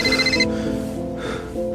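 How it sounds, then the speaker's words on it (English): A phone rings loudly and close by in a short drama scene, with bright repeating trilling tones that briefly drop out and then return, heard with no talking. "My phone jolted me out of sleep."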